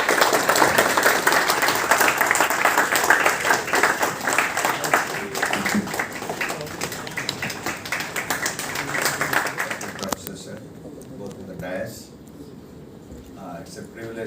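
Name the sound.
audience applause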